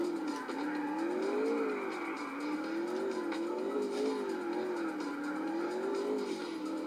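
A car drifting in a racing video game: a steady engine drone whose pitch rises and falls in slow waves, with a hiss of tire squeal layered over it throughout.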